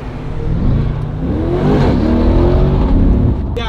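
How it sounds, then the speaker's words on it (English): Modded 700HP Nissan GTR pulls hard in a race against a Corvette C8: a loud, close engine roar rising under full throttle, turbos spooling and the exhaust booming steadily for a few seconds before easing off. "as soon as I heard those turbos spooling, I knew this guy had some boost"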